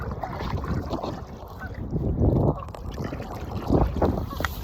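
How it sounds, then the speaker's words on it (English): A paddle board is launched onto the water outdoors, with splashing, sloshing and scraping mixed with gusty wind buffeting the microphone, close and moderately loud. "let's launch this boat"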